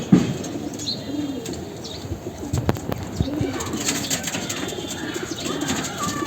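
Pigeons in a village loft coo repeatedly in low, rolling calls close by, with occasional wing flaps and soft chirps among them.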